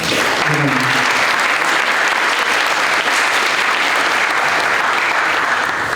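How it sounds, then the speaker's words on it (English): Sustained audience applause fills a conference keynote hall, loud and steady with dense clapping throughout and a brief murmur of voices near the start. "Let's give them all a big round of applause."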